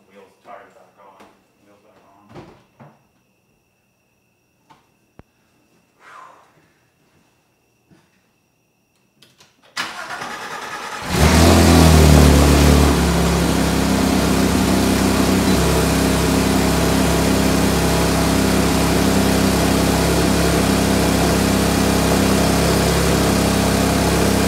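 Porsche 991 GT3 fitted with a Brombacher exhaust, heard after some quiet handling noises as the flat-six starts with a loud surge and settles into a strong, steady idle that fills the rest of the clip.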